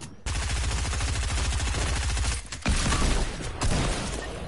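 A minigun fires in a video game, a loud continuous buzzing stream of rapid shots with two brief breaks between bursts.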